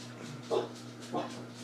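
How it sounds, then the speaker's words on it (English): A dog gives two short barks, about half a second apart, fairly close by over a steady low electrical hum, with no talking. "What are you barking at?"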